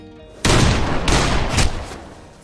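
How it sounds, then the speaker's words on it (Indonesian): A few heavy gunshots from a Western film burst out in quick succession, booming and loud, then fade into a lingering rumble. "Mereka pun terlibat saling tembak hingga ke hutan dekat rumah"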